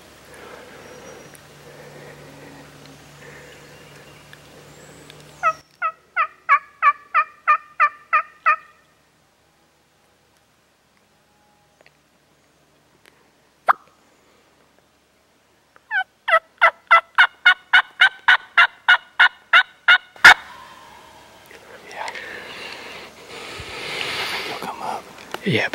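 A wild Tennessee turkey gobbles in the open woods: two quick rattling bursts of rapid, evenly spaced notes, moderately distant and clear, separated by near silence, with faint rustling before and after.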